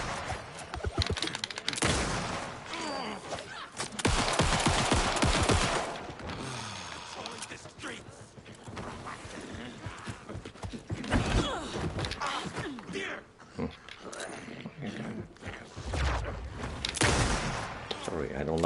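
Gunfire in a Western-style video game, sharp shots and bursts cutting through busy game sound, with talking over much of it.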